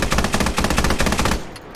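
A weapon emplacement in the video game Squad fires a loud, continuous rapid burst of automatic gunfire that cuts off abruptly, leaving brief quiet.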